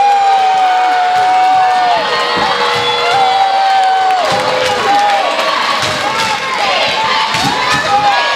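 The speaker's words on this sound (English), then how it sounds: "listen to the crowd." Loud, sustained crowd cheering and shouting fill a girls' high school basketball tournament gym during a semifinal, with whoops and scattered applause swelling over a steady roar, and sneaker squeaks and voices mixed in throughout.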